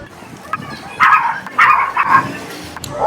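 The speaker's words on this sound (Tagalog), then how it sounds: "Tinatahulan ng aso dun sa labas." A dog barks outdoors several times, sharp overlapping yips and barks at moderate distance, with some quieter whimpering between them.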